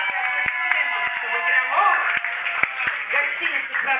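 A pub crowd at a rockabilly dance evening keeps up ongoing applause, a busy mass of hand claps with a few louder individual smacks, steady and moderately loud throughout.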